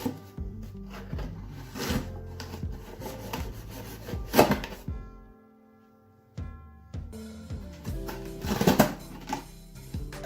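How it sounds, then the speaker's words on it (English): Wood being chopped at home, with repeated sharp knocks and scraping, dense at first, then a short quiet pause before the chopping resumes close by. "I'm trying to chop wood"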